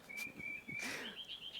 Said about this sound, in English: That was a bird song.